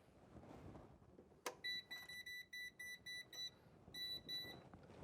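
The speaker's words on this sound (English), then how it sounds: "we're getting the beep again" A Klein outlet tester beeps while plugged into a GFCI receptacle, giving a quiet run of about eight evenly spaced short high beeps, a brief pause, then two more.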